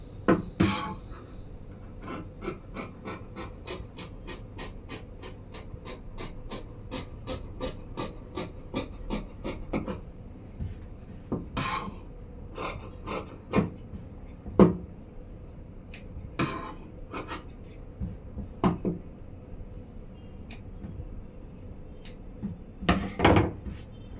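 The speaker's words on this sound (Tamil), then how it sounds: "இப்போ வந்து கட்டிங் பண்ணிடுறேன்" Scissors cut through blouse fabric in a quick, regular run of close snips, then slower, irregular cuts with rubbing and scraping against a hard surface.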